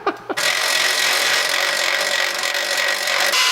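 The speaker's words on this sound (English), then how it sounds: "we're gonna start by drilling one hole in the bottom of the core support" A power drill bores a hole into the metal core support of an LS-swapped K5 Blazer, a sustained loud whirring grind that starts after a couple of short bursts and runs steadily, close up.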